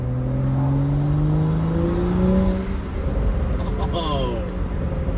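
A BMW F30 with an N55 engine and a Burger Motorsports performance intake revs up. The tone climbs steadily, then falls back with a whooshing intake sound. The revving is loud and close and plays with no talking over it.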